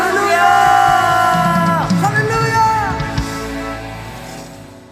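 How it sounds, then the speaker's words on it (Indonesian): A church congregation at a Sunday worship service shouting praise together, a loud sustained wave of raised voices and whoops that swells, then gradually fades toward the end. "Berikan sorak-sorai bagi Tuhan kita"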